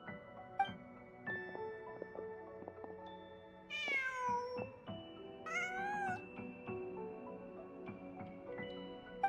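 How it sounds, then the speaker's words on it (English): A cat in the video game Genshin Impact meows repeatedly over a soft background melody, its calls standing out clearly and fairly close, with no talking. "Just a cat."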